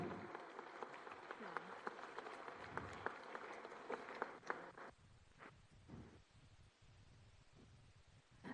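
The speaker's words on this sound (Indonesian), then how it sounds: "Mari kita berikan tepuk tangan yang meriah." Faint, distant audience applause fills a hall at the Indonesia Stock Exchange listing ceremony for PT Wahana Interfood Nusantara, a dense patter of clapping that thins out and fades after a few seconds.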